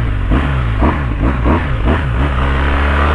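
A video game motorcycle engine revs up and down repeatedly, loud and close, its pitch climbing and falling in quick throttle bursts.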